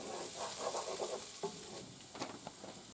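Red pepper flakes and oregano are stirred into bolognese sauce with garlic, a soft low sizzle under gentle scraping and stirring strokes, close but quiet, with a couple of light utensil clicks near the end.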